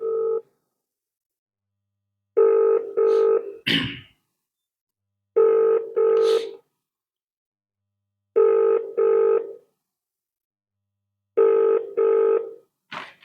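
An unanswered phone call rings repeatedly: pairs of clear electronic ring tones repeat at a steady rhythm with short silences between, broken by a few brief clicks.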